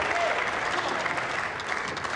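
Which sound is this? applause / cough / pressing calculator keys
applause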